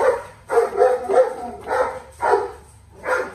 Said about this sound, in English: You know my dogs. They like to start barking when I get on video.